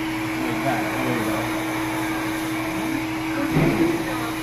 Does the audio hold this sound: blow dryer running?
yes